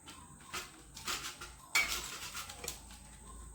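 A knife slicing moha fruit, a wild monsoon vegetable from a Konkan village, gives a few quiet close cuts and scrapes with light clinks of utensils in a calm kitchen.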